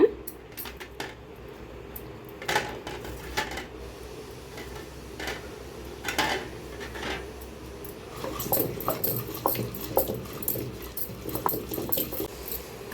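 Andhra-style kara chutney being ground by hand in a stone mortar (ural), giving irregular close knocks, clatters and scraping strokes that grow busier toward the end, with no talking.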